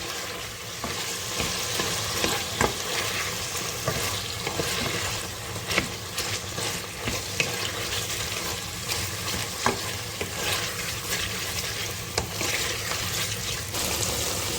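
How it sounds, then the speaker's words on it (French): Tomato paste fries in a pan, giving a steady soft sizzle broken by scattered stirring scrapes, with no talk. "je vais ajouter une cuillère à soupe de concentré de tomate. Et je fais bien cuire."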